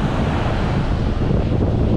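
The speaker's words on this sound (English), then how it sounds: "This wind is very annoying." Gusty wind buffets the microphone on an open beach on Bribie Island, Queensland, mixed with a steady wash of surf, loud and continuous with no pauses.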